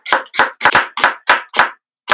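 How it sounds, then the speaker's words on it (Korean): A knife thinly slices seeded cucumber on a cutting board in a home kitchen, seven crisp, evenly spaced chops in quick succession, then a short pause before one more cut, close and clear. "씨 뺀 오이를 얇게 썰어주세요."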